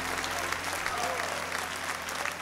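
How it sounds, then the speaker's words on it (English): A church congregation claps in praise during a Sunday morning service, a dense, even wash of hand clapping that carries on steadily at moderate distance throughout. "Give the Lord a hand clap of praise."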